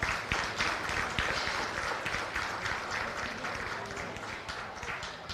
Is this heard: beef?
no